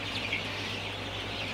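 Sonali chickens cluck softly in a poultry shed strung with bamboo poles they climb on, the bird calls faint and scattered over a steady background hum.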